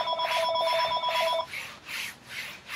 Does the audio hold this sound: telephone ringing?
yes